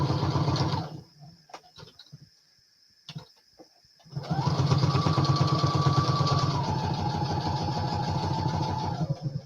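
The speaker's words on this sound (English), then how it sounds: "now that my sewing machine is right next to me. Let me stitch around this really quick." A sewing machine stitching fabric scraps runs close and loud, starting with a few stuttering stops, then whirring in a long continuous burst.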